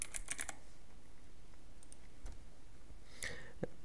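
Keys clacking on a computer keyboard in a short burst at the start and again near the end, close and clear over a quiet background with no talking.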